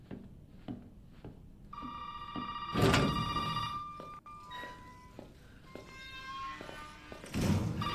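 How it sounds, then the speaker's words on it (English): In Resident Evil 7, a telephone rings out in loud, repeated electronic bursts, mixed with dull thumps and footsteps as the player approaches it. "Where the phone at?"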